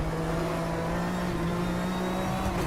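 A classic GTO race car in the RaceRoom racing game at Zolder holds a loud, sustained engine drone at steady high revs, with a slight rise near the end and no voices.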